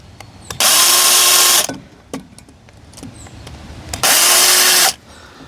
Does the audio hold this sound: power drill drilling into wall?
yes